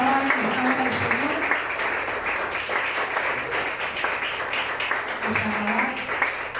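Applause from a church congregation at a Sunday school service rings out steadily for several seconds, dense clapping held at an even level, with a voice that sounds like it might be singing or calling out.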